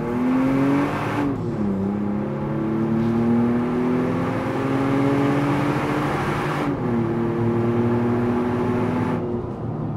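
A supercharged V6 Toyota Tacoma pickup, heavily loaded, accelerates hard from a stop to 60 mph, its engine whine and supercharger pitch climbing steadily through several gear shifts, loud and close with no talk.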